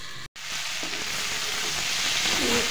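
Green peas, onion and potato fry in a pan, a steady close sizzle with a brief cut near the start, then continuous crackling that grows a little louder.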